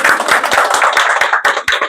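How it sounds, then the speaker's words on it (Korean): An audience claps at an autumn outing lecture, a close, lively patter of many hands that stays dense and uneven for the full moment with no talking. "박수."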